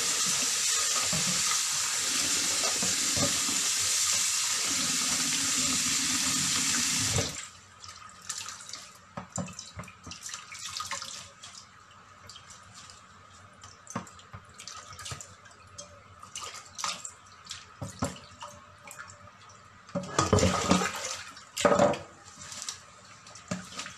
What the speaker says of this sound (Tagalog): Huhugasan natin siya ng running water.